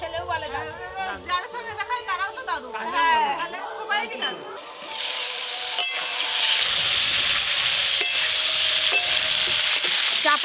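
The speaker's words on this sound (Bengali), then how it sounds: "চাপা দিয়ে দিয়ে এইভাবে খুব ভালো করে ভেজে নেব আলু ফুলকপি" Potatoes and cauliflower fry in a pan while being stirred and pressed down. A voice talks over quieter cooking at first, then a loud, steady broadband sizzle takes over.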